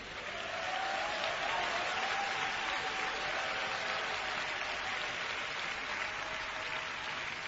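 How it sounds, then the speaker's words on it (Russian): Congregation applauding during a church sermon, a dense, even wash of clapping that holds steady throughout, with a faint tone running beneath it and no one speaking over it. "Дайте ему аплодисменты."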